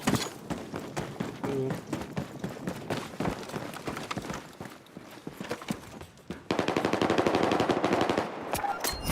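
Rapid automatic gunfire in Battlefield 6 Battle Royale, dense bursts of shots with thuds and footsteps, growing louder and more intense near the end, with no talk over it.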